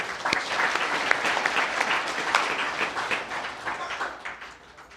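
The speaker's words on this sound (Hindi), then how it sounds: "ताली बजाओ बाकी के लोग" An audience at a Hindi spiritual discourse breaks into applause, a dense wash of clapping that swells and then gradually tapers off.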